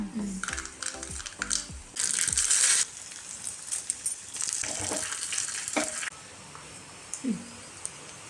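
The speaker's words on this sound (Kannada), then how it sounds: "ಇದಕ್ಕೊಂದು ಒಗ್ಗರಣೆ ಕೊರ್ಕ" Spice tempering crackling in hot oil for a wild jackfruit curry, bursts of sizzle with clattering utensil and ladle sounds, close and fairly loud, with no speech.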